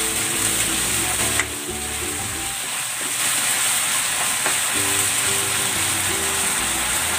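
Shrimp and mixed vegetables sautéed in oyster sauce, giving a steady loud sizzle and hiss with occasional stirring scrapes from the pan, close and continuous with no voices.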